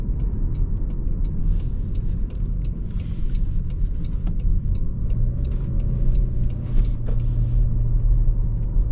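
A 2026 Toyota Camry AWD hybrid with 232 horsepower accelerates on the road, heard from the cabin as a steady low rumble of tires and engine, with a brief rising tone near the end.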